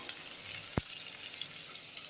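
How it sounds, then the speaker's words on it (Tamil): Drumstick (moringa) leaves sizzling quietly in a hot pan with chillies, a soft continuous hiss with a single sharp clank partway through. "இந்த கீரை எடுத்து இதில் போட்டுருக்கோம் நல்லா வதக்கி விட்டுருங்க"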